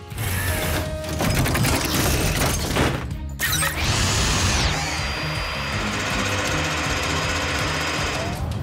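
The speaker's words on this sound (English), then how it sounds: "Now, Zuma, use the mini drill to make post holes." A cartoon mini drill bores post holes at a construction site on a dinosaur island, with rapid mechanical rattling and whirring, sharp clunks, and a rising whoosh of sound effects.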